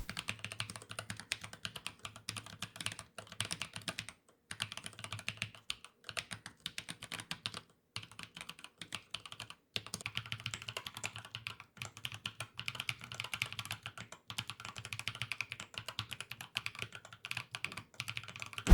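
Rapid, irregular typing on a keyboard fitted with thin, lightweight custom keycaps, giving soft close clicks with a few short pauses and no voices.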